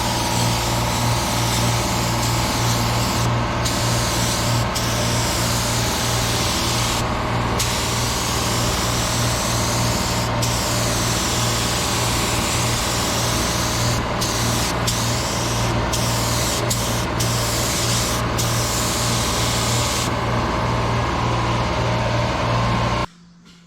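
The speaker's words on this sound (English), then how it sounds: "now we spray" A continuous hiss of a spray gun spraying magenta paint runs steadily for a long stretch with brief gaps, over a low constant hum, ending abruptly.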